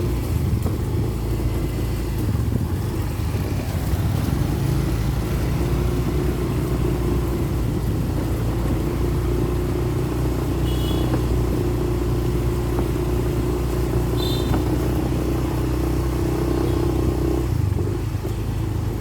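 Cars arriving at a house during heavy rain: a steady low engine rumble and road noise from vehicles pulling in and idling nearby, continuous throughout with faint rain hiss and no talking.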